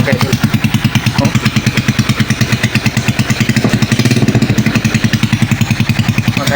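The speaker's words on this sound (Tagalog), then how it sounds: "pang racing talaga to yung tambutso na to" Close and loud, a motorcycle fitted with a racing-style exhaust pulses in a rapid, steady idle throb, with brief rises in revs throughout.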